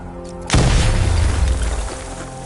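A Batmobile cannon fires in the Batman Arkham Knight video game with a single loud, deep blast. A long rumbling tail follows and slowly fades away.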